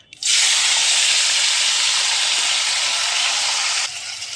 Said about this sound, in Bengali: কড়াইতে তেল দিয়ে দিয়েছি, তেল আমার হয়ে গেছে। এবারে আমি মাছগুলোকে ভাজবো।